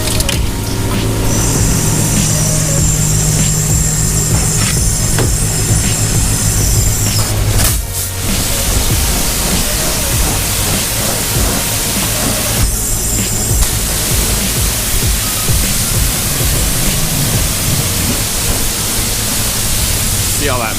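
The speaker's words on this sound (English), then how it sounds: "I'm just gonna go ahead and rinse the rest off" A pressure water spray rinses degreaser out of a dusty truck engine bay, a loud steady hiss of spray that runs throughout with brief changes in tone as the stream shifts across engine parts.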